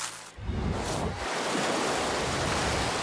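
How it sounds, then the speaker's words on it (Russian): A wave machine blowing air into a cartoon swimming pool sends up a loud, broad rushing surge of water after a brief quiet start, holding steady to the end with no voices. "Волновая машина всасывает много воздуха и вдувает его в бассейн. Она может делать волны любого размера."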